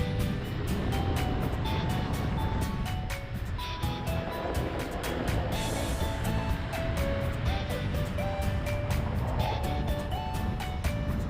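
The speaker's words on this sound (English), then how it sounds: "The trucks, one truck is standing by and another was going to somewhere else." Trucks on a hilly road in Nepal between Butwal and Palpa: a steady, fairly loud roadside roar of engine and road noise with tonal whines layered over it, one vehicle idling while another moves off.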